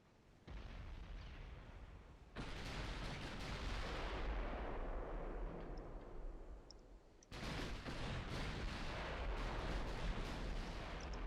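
Naval gunfire in the warship game Ultimate Admiral: Dreadnoughts, with heavy booming salvos that set off long, roaring rumbles, several sudden loud onsets followed by sustained thunderous noise and a few faint pops.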